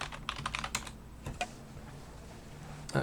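Quick bursts of typing on a computer keyboard during a Vim practice session, a cluster of rapid clicks at the start, a couple of isolated keystrokes near the middle and one more at the end, with quiet room hiss between.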